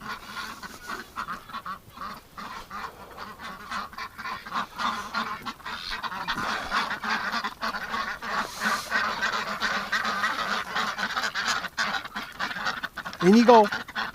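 Ducks outdoors on a winter day honk and quack in a loose, steady stream at moderate distance. A person talks over them now and then, and a sharper, closer burst of calls comes near the end.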